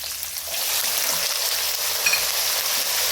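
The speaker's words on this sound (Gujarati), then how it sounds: "પહેલાં આપણે તુવેર અને વટાણા તેલમાં નાખી દઈશું" Pigeon peas and green peas frying in hot oil, a steady bright sizzle that holds evenly throughout at close range, with no voices.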